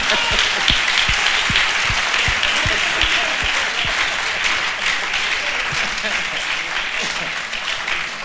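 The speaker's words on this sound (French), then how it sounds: "On acclame encore plus fort que ça." Sustained audience applause fills a hall at a French-language gathering, a dense even wash of clapping with a few distinct louder claps, holding steady throughout.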